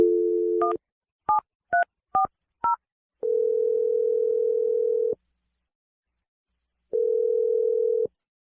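A phone line's steady dial tone, then a quick run of keypad tones as a number is dialed, followed by two long, even ringback tones separated by a pause, all clear and without talk.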